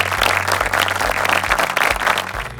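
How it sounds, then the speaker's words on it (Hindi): Audience applause welcomes a husband-and-wife team arriving at a national family Bible quiz: dense, loud clapping from a crowd, sustained and fairly even for a couple of seconds, with no voices. "जोरदार तालियों से इनका स्वागत कीजिए।"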